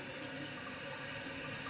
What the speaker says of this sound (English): Once you turn the water back on, it'll start filling up.